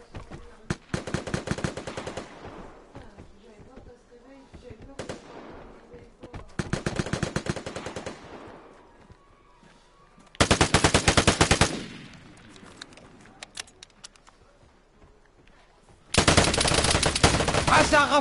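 Automatic weapon fire in the Vigor shooter game, heard as several loud rapid bursts separated by quieter gaps with faint background sound between them.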